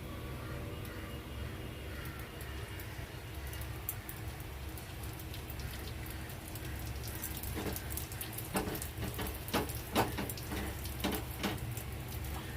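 Steady rain falls outdoors during a wet June–July monsoon spell, a constant soft hiss with scattered sharper drip and splash taps growing more noticeable toward the end.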